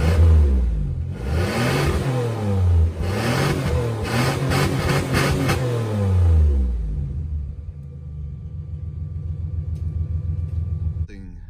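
An old van that has sat unused for eight years cranks and fires, its engine revving up and down in loud surges before settling into a steady rough idle, with a short click at the end.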